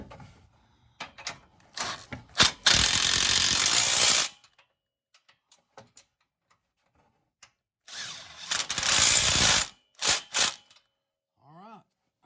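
A ratchet with a 12 socket tightens front bumper brush guard bolts on a Honda Pioneer 1000-5 side-by-side, heard as two loud, close, rapid bursts of clicking separated by quiet handling noises and brief voices.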